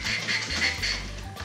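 A spray bottle holding water with a little oil is shaken by hand, giving a few quick, rhythmic sloshing rattles up close within about a second and a half.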